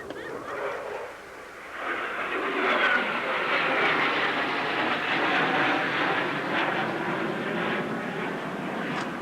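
An F-16 fighter jet passes by at the 1986 Abbotsford International Airshow, a broad jet roar that swells after a brief dip and stays loud, sustained and hissing to the end.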